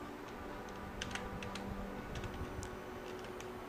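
Light, quiet tapping on a computer keyboard while HTML code is entered, scattered keystrokes arriving in small bursts over a steady low hum.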